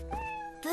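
A cartoon cat gives a short, clear meow, rising at the end, heard close and loud in a brief animated scene.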